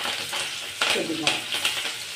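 Mustard seeds and urad dal fry in hot oil in a pan, making a loud, steady sizzle with sharp crackles and pops from the seeds.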